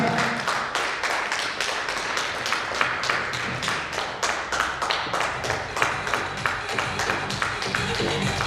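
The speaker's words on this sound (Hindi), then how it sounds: "जोरदार तालियां।" At a company first-anniversary event, a crowd claps loudly and steadily, with distinct sharp hand claps repeating in a fast, fairly even rhythm over several seconds.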